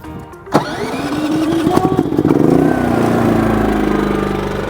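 A push-button generator on a mobile pet grooming trailer cranks with a sharp click, catches and settles into a steady, fairly loud mid-pitched running hum that holds to the end.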